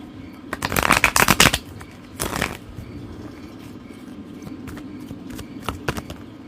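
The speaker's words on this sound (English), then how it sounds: "And shuffle again." Modern Witch Tarot cards shuffled by hand in two bursts: a long, crisp riffling flutter, then a shorter one, followed by a few light taps and card handling against a low steady hum.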